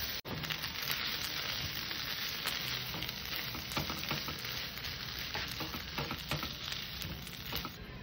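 Potatoes sizzle and crackle in hot oil in a kadai, a dense steady frying hiss with scattered sharper pops throughout, close and alone.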